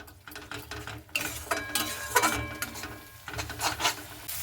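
Onion masala with Kashmiri chilli powder is stirred in a pan for an egg curry, producing close, uneven scraping and rubbing strokes of a spoon against the pan, with no talk.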